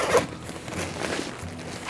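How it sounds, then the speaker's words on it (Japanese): A zipper on the front top pocket of an Osprey UNLTD AntiGravity 64 backpack rasps steadily for about two seconds, close and fairly loud, with faint handling rustle around it. "正面側トップ側にあるこのジッパーですね。"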